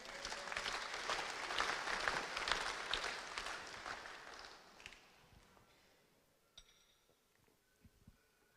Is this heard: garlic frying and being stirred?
no